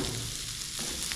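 Chicken and vegetables sizzle steadily in oil in a pan, a close, continuous frying hiss with faint stirring scrapes and no voices.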